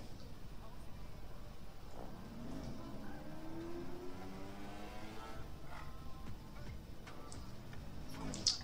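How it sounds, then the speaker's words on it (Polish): A Porsche engine in the racing game Need for Speed, modded with NFS Unite, revs repeatedly, its pitch climbing as it accelerates, heard fairly faintly against a steady background hum. "Nawet możecie sobie posłuchać teraz tego Porsche."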